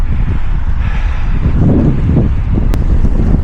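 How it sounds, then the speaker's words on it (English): Strong wind on a sandy beach at Margate, Kent, with rain, a loud continuous roar buffeting the microphone throughout. "the wind and the rain's getting a bit intense"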